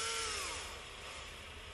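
A power drill boring a hole for a shaft pin in a crawler build, the motor whining at a steady high pitch that eases slightly as it runs, close and continuous.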